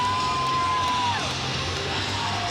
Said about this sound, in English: Crowd's going wild over that.